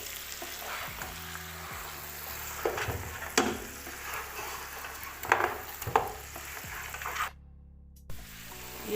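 Beef trotters with green chili paste sauté in a pan, giving a close, continuous sizzle punctuated by irregular scraping and stirring knocks, with a brief quiet gap near the end.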